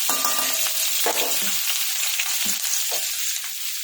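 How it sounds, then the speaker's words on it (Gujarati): Mustard seeds, asafoetida, green chilies and dry garlic hit hot oil as tempering for a Gujarati cauliflower and potato sabji, giving a steady close sizzle with a few spattering pops and stirring scrapes, and no talking. "હવે રાઈતા તળી ગઈ છે હિંગ એડ કરીશું લીલા મરચાં ને સૂકું લસણ એડ કરીશું"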